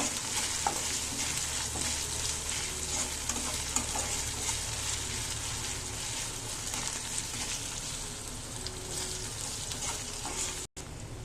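Ginger garlic paste sizzling and frying over a medium flame while being stirred, a steady close crackle with soft scraping strokes throughout.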